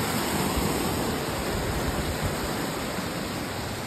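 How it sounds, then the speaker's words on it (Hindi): Meltwater rushing out from under a Himalayan glacier, a steady, dense, loud roar of flowing water with no pauses and no voices. "ये देखो कहाँ से पानी निकल रहा है"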